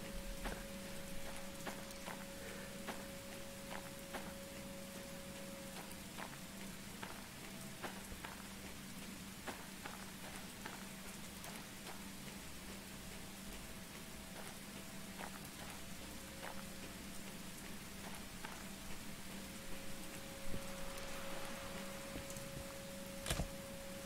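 Rain in the train game Derail Valley, a steady hiss of drops pattering on surfaces with scattered sharper ticks, joined by a faint sustained tonal hum that holds for long stretches.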